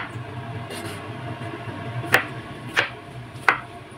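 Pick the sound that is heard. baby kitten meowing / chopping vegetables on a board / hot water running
chopping vegetables on a board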